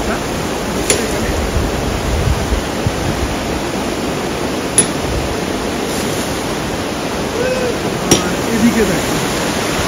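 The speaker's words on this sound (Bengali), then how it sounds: "ফলসটা আরেকটু কাছ থেকে দেখাচ্ছি।" Waterfall on the Silk Route near Zuluk, a loud, steady rush of falling water heard up close, with a few brief words spoken over it.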